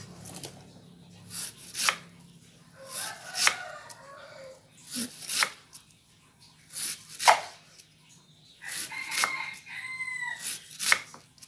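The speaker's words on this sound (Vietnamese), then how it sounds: "Bạn xắt như vậy cho đến hết cái phần cái cọng dọc mùng này của mình" A kitchen knife slices through taro stems (dọc mùng) for vegetarian noodle soup in steady, crisp cutting strokes close by. Faint rooster crowing and other fowl carry from far off behind the chopping.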